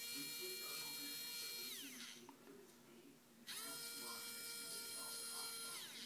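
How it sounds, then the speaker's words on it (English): A Husky PowerTek precision screwdriver powered by two AAA batteries gives a thin, high motor whine that winds up and down. It runs, pauses briefly and runs again, close by. "It comes with the power screwdriver."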